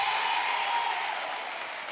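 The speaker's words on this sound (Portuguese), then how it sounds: "Vamos aplaudi-la." Studio audience applause on a Brazilian children's TV variety show after a young girl's introduction, a bright, steady wash of clapping with no talk over it, easing off slightly toward the end.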